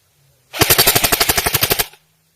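An airsoft gun powered by a 7.2 volt LiPo battery fires a fast full-auto burst of about fifteen evenly spaced shots, loud and close, lasting just over a second, with no talk.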